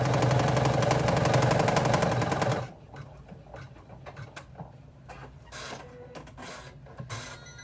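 Embroidery machine stitching a vinyl zipper bag with hardware in the hoop: a loud, rapid mechanical rattle of needle strokes for a few seconds, then stopping, followed by quieter clicks and shuffling of the frame moving.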